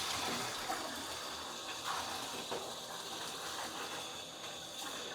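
Running tap water rinses a batch of LEGO bricks, a steady broadband splashing hiss that continues throughout, fairly quiet and without speech.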